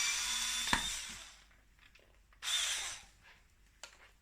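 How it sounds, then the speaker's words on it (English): A power drill running in reverse to unscrew a screw whirs in two short bursts with pauses between, close by, with a few clicks and knocks of handling. "just get reverse on the drill"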